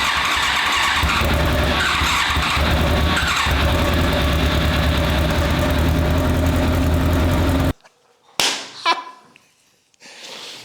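A rebuilt Yamaha YZF1000R Thunderace motorcycle engine runs loud and close, a steady idle-like drone that cuts off abruptly near the end, followed by a brief clunk and some quieter noises.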